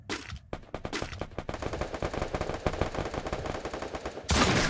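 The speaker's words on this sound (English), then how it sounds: "Sniper rifle." Sniper rifle fire in the Free Fire video game rings out as sharp shots that turn into a fast, continuous rattle of gunfire, loud and close, with no speech over it.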